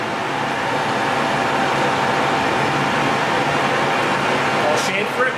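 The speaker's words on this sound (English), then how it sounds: "we'll start up the lathe. I'll face this end here." A metal lathe runs steadily while facing the end of a workpiece, a continuous broadband machine hum and cutting noise held at even loudness close by throughout.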